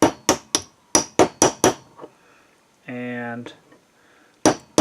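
Sharp metallic hammer taps drive a loose pin through a CZ-50/CZ70 (Vz.50/70 series) pistol frame with a 1/8 inch brass punch over a bench block, struck in a quick irregular series of close blows. A brief ringing tone and short speech follow.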